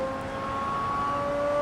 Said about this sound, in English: this car sounds fantastic